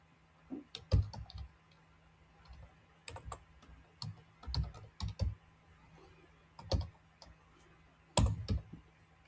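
Computer keyboard typing a file name while saving toolpaths in Carbide Create CNC software: a few short bursts of close, crisp key clicks separated by quiet pauses, with one sharper click near the end.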